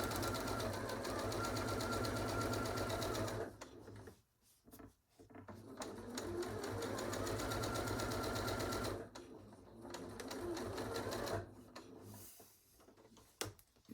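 A sewing machine runs steadily back stitching fabric for a small pin cushion, with two long motor runs broken by brief stops, close and even, with no talking.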